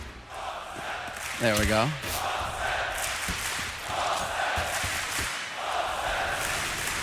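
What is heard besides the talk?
esports arena crowd chanting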